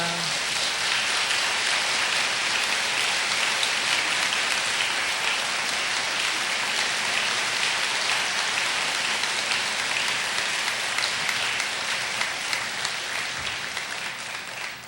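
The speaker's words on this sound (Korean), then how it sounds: "박수로 환영해 주셨으면 고맙겠습니다." Audience applause fills a church during an installation service for a pastor, a dense, sustained clapping that stays loud and steady throughout, slightly fading at the very end, with no speech over it.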